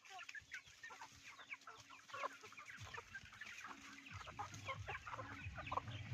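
Several free-range chickens in a mango orchard cluck softly and continuously, with scattered higher chirps and peeps, fairly quiet and close, no talking.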